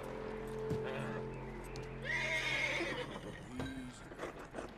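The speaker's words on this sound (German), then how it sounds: "So, und jetzt das Pferd." A horse whinnies in Red Dead Redemption 2, a loud drawn-out neigh followed by snorts and a few hoof clops, with someone speaking alongside.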